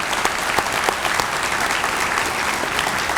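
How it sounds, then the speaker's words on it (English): An audience at an athletic hall of fame awards ceremony claps steadily for a few seconds, a dense, even patter of many hands filling the room with no voices on top. "Please join me in a round of applause for these guys."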